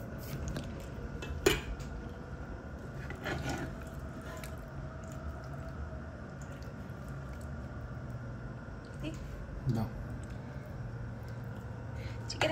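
Chicken is served onto a plate with metal utensils in a home kitchen, sounding as soft scraping and a few sharp clinks of cutlery on dishes over quiet background, with people talking at times.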